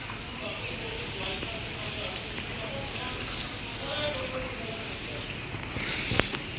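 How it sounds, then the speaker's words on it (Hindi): Heavy rain pours in Lahore as a dense, continuous wash of drops and patter, steady throughout with a brief sharp knock near the end. "बारिश है, बाकायदा बारिश है।"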